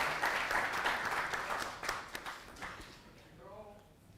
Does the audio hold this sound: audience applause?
yes